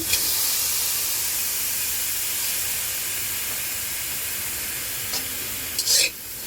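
Washed black cumin seeds dry-roast in a pan over a low gas flame, giving a steady, even hiss with a few faint scraping stirs near the end.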